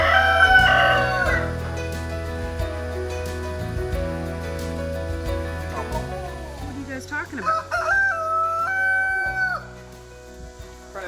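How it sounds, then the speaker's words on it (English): A rooster whose crow has an odd, gurgling, underwater quality calls out loudly in a cleaned-out shed, with sustained crowing phrases near the start and again toward the end over a background of music, and a person asks a question midway. "The one that, when he crows, he sounds like he's underwater."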